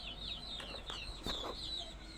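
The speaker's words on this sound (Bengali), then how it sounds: "আর এই যে দেখেন মুরগি একটা ডিম পাড়তেছে।" A hen clucks while laying an egg. Several soft, short clucks and higher squawks repeat faintly in a quiet setting with little else nearby.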